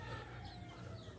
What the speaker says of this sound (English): So basically all of our chickens are loose right now.